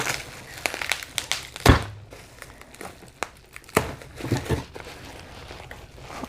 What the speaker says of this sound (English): let me get my box cutter and open up this bubble wrap